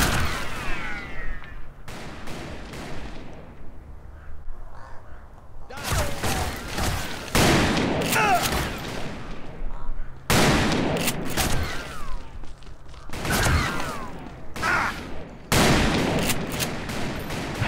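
Call of Juarez: Bound in Blood game gunfire: loud, close bursts of shots and rapid volleys in clusters, with reverberant cracks and brief quieter gaps between exchanges.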